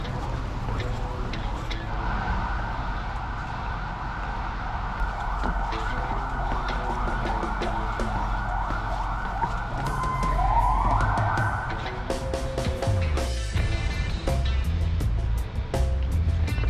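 Police sirens wail along a street in Georgia, a loud rising and falling siren sweeping for much of the time amid traffic noise, ending with clattering street sounds.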